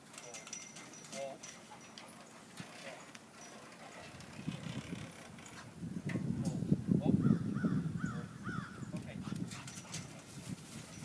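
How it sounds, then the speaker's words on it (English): Bird dogs at a kennel bark and yelp in a noisy, overlapping chorus that swells loud in the middle, mixed with shuffling and outdoor noise, while people talk nearby. "closer to us is the dog kennel where the bird dogs live"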